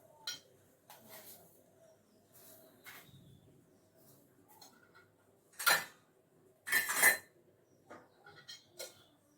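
A spoon clinking against a cup while sugar is stirred into strained tea, a few sharp, close metallic clinks with quiet handling sounds between them.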